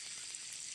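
Onions sizzle in hot oil rendered from pork, a short steady hiss of frying with no voices.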